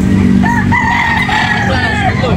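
A three-year-old Boston Roundhead gamecock crows once loudly and close, a drawn-out call over a noisy market in Carbon, Cebu, with a voice briefly audible beneath.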